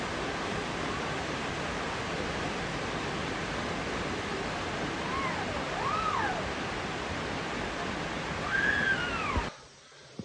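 Tamda waterfall in eastern Algeria pours with a steady broadband rush. A few bird chirps float above it, and the flow cuts off abruptly near the end.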